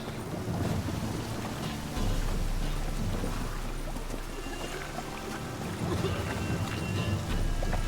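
Storm ambience in The Witcher 3, with steady wind and rushing rain noise broken by a deep low rumble, continuous and enveloping over the whole stretch.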